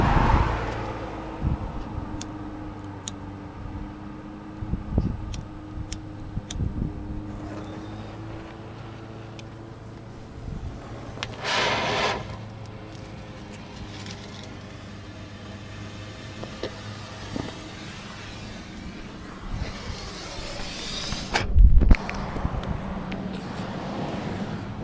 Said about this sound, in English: There's cars coming by and everything.